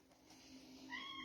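A house cat gives a single faint, drawn-out meow that rises slightly at the end, heard alone against a soft background hiss.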